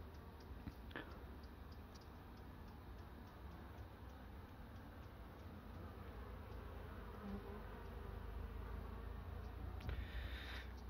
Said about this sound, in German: Jede Biene, die hier nicht im Flugloch rein rausfliegt, sondern um die Völker außen rumfliegt, patrouilliert, das sind die Räuberbienen.